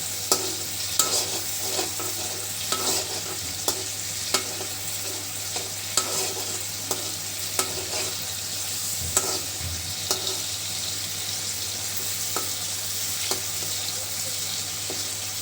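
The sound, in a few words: spice masala being stirred and fried in a pan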